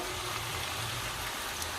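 Potato and jackfruit fry together in spices in a pan, a steady, soft, rain-like hiss running evenly throughout.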